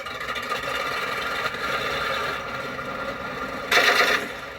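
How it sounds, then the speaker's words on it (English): A 1/16-scale RC Black Prince tank model runs its engine-start sound effect, a steady mechanical engine drone that swells louder near the end, with no talking. "We do engine start."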